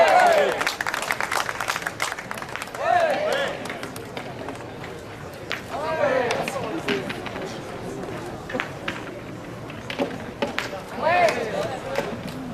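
A crowd applauds a performance at a 1000 boules event in Canada, dense clapping rising and falling in waves over about twelve seconds, with voices and chatter mixed through it.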